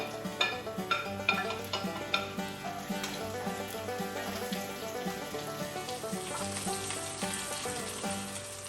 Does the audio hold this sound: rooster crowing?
no